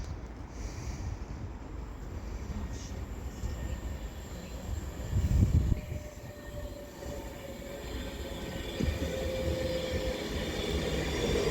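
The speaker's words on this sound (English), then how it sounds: "now arriving in is going to be an Avanti West Coast Class 390 Pendolino to Liverpool Lime Street" An Avanti West Coast Class 390 Pendolino arrives at Runcorn station on the Liverpool branch, a steady rumble of rolling stock with faint wheel squeal building gradually, moderately distant.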